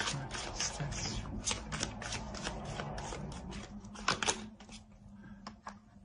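Tarot cards shuffled and handled by a reader, a steady run of soft, close riffling and slapping card sounds that thin out toward the end, with no talk.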